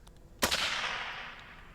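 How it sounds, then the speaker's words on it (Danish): A single sharp rifle shot cracks out and rings off into a fading echo against a quiet background. "Og på sit fjerde og sidste skud"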